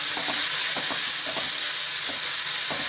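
Green chilies frying in oil with cumin seeds and onion make a constant close sizzle and hiss, broken by repeated soft scraping strokes of a spoon stirring the pan.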